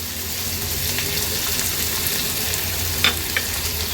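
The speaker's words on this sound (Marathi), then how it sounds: "थोडासा कांदा तेलावर परतून घ्यायचे" Finely chopped onion sautéing in hot oil with curry leaves, chilli, cumin and mustard seeds, a dense close-up sizzle with a couple of brief spoon scrapes near the end, no talking.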